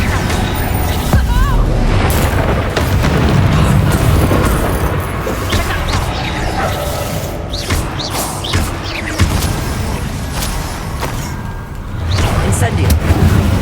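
Repeated Incendio fire spells cast in the Hogwarts Legacy video game land as loud booming bursts and thuds, one after another over a steady roaring combat backdrop that barely lets up.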